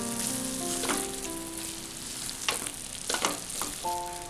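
Squid roast frying in a pan with curry leaves and being stirred, a steady close sizzle with a few scraping stirs of the spoon, with no talking.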